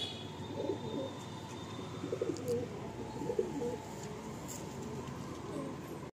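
Kalanka pigeons give soft, low rolling coos in a few short bursts, close by, over a steady background hum with faint voices nearby.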